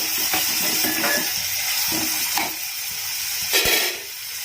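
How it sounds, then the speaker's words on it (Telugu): Chopped onions frying in a pan for Telugu-style keema curry, a steady close sizzle with faint stirring clinks and scrapes throughout. "ఆనియన్ని కొంచెం వేగేంత వరకు కూడా వేయించుకోవాలి"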